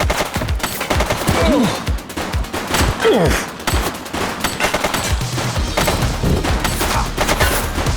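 Rapid bursts of gunfire from a suspect in a police shootout in The Precinct, loud and near, with clustered volleys and single cracks over eight seconds, nearly alone with only faint voices.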